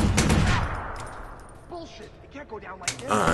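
Gunfire in the open-world game Watch Dogs starts with a loud cluster of rapid shots. It then gives way to quieter scattered pops, and more shots crackle near the end. Speech is also present.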